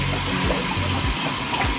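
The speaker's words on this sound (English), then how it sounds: "So Glenn's taking a shower" Water from a home shower streams steadily and close, a continuous hiss with no voices over it.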